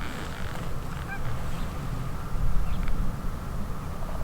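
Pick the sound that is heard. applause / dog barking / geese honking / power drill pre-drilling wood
geese honking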